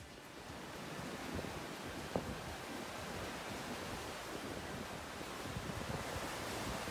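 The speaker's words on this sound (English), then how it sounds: "You can stand right under the pier and watch the waves." Sea waves washing beneath the pier at Walton-on-the-Naze, a steady broadband surf wash with light wind noise on the microphone, no talking.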